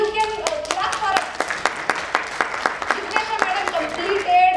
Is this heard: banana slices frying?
no